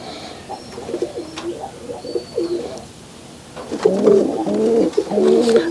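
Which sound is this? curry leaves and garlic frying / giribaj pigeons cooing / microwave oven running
giribaj pigeons cooing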